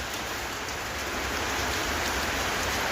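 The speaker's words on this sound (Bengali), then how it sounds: "বৃষ্টি হচ্ছে?" Steady rain falls continuously, a dense, even wash of drops on surfaces close by, with no voices or thunder over it.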